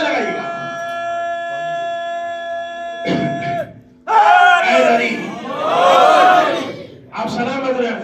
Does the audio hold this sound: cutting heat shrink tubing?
no